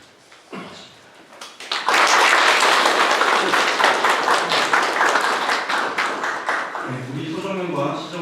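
An audience at a 2023 citizens' town hall meeting in Sojeong-myeon, Sejong City, breaks into loud, sustained clapping that lasts several seconds and then fades as a speaker's voice resumes.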